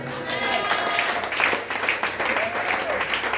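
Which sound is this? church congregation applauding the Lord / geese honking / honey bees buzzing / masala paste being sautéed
church congregation applauding the Lord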